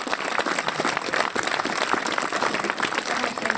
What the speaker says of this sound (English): And I think we can get an applause for that.